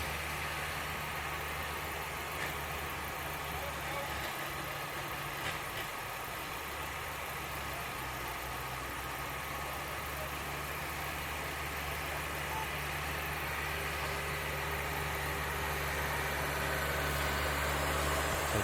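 The John Deere 4430 pulling tractor "Wolverine Deere" idles with a steady low engine rumble at a truck and tractor pull in Brandenburg, Kentucky, holding even and continuous over a long stretch.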